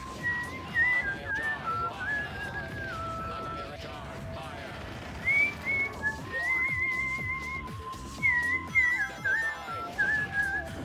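A person whistles a wandering tune in bursts of high, clear notes over game music and background sound.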